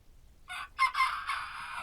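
A rooster crows loudly and close by, a single drawn-out call with a brief break near the start, sounding alone.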